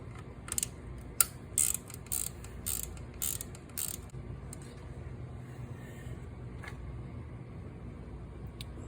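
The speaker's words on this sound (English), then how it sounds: "These wrenches here seem to fit those bolts just fine." Close ratcheting wrench clicks come in short repeated bursts as an 8mm or 5/16 wrench loosens the headlight bolts on a 2003 Honda Shadow Spirit motorcycle, then fade to a quiet steady hum.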